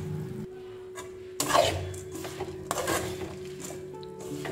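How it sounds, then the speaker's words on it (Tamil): Aval pori (puffed rice) stirred in a pan with a spoon makes rough, rasping scrapes and light clinks. The sound is close and moderately quiet, with no talking. "நல்லா இதை கிண்டி விட்டுருங்க."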